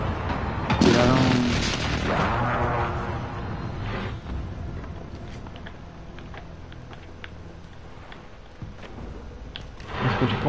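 Gunfire in a multiplayer shooter video game, with a loud booming shot early on followed by scattered sharper cracks and distant pops, and a few more bursts toward the end.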